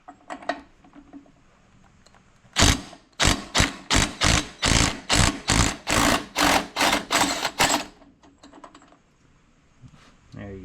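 A ratchet with a 1 1/4 inch socket loosens an alternator bolt on an E180, a close run of about fourteen quick, even clicking strokes with quieter handling sounds before and after.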